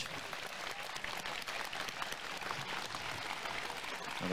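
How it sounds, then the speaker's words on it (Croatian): Sustained audience applause fills the hall at the 10th Festival of Mediterranean and European Film in Trebinje, a dense, steady wash of many hands clapping at even loudness throughout, with no voices rising above it. "molim vas za još jedan aplauz"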